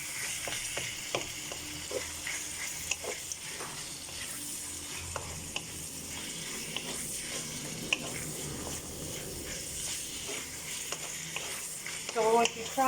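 Beef cubes and big chunks of onion fry in a wok, giving a steady, close sizzle with scattered stirring clatter throughout and a few louder utensil knocks near the end.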